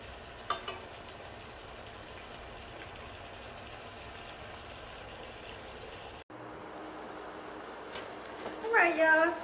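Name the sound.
shrimp cooking in pan for fajitas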